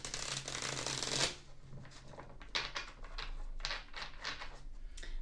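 Tarot cards are shuffled close up in a dense riffling burst, then slide and flick in a run of shorter rustling strokes, with no one speaking.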